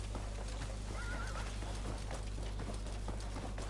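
Horse neighing once over a steady clip-clop of hooves in the Crimson Desert video game, with a constant rumbling game ambience underneath.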